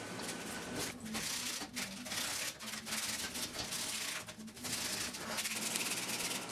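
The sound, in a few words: removing rust from car frame with sandpaper and wire brushes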